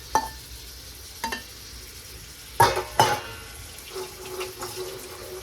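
Prawns dropped into a pan for a dry prawn dish and stirred: a few sharp clattering scrapes of a utensil against the pan over a faint, quiet sizzle, with pauses between strokes.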